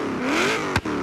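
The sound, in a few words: Forza Horizon 5 video game car, street exhaust revving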